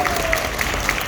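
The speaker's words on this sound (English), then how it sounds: "That deserves a round of applause" Brief burst of applause from a live audience at a SeaWorld Orlando presentation on rescued dolphins, manatees and sea turtles, a dense, even patter of many hands at steady loudness.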